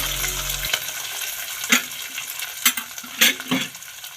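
Shredded cabbage hits a hot pan of oil already popping with mustard seeds, cumin and urad dal, then crackles and sizzles close by under a few scraping stirs and clatters.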